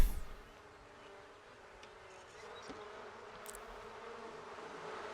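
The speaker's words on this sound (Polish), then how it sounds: "Zbierz rój. Buduj więź z pszczołami" A low, steady hum of bees buzzing around a beehive in The Sims 4, fairly faint, continuous, with no speech.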